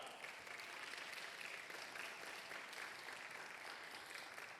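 Congregation applause at a Sunday young adults' church service, a continuous even patter of clapping that sounds faint and distant, with no voices above it.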